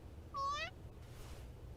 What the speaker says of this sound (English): Edo looks up and meows inquisitively at me.